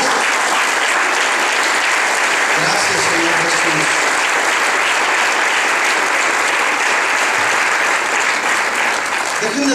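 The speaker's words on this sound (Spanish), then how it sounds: "¿Cuántos le dan un aplauso fuerte de alabanza a ese Jesús?" Loud, sustained applause of praise from a church congregation during a sermon on the resurrection, dense clapping throughout with a voice speaking briefly over it.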